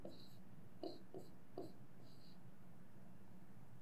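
Pen or pencil on paper writing the number 180 during a maths lesson, a few brief scratchy strokes, faint and close, over quiet room tone.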